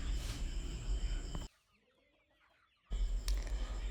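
Chickens at a village coop cluck busily and close by in two loud stretches separated by a sudden near-silent gap of more than a second.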